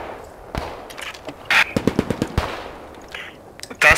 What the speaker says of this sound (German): meine Waffe zu schießen